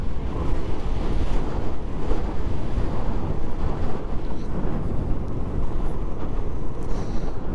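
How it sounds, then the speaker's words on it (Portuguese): Strong wind buffeting the microphone outdoors during a masters-category bicycle race, a loud, steady roaring rumble with no pauses throughout. "Aqui o vento não tá dando, hein?"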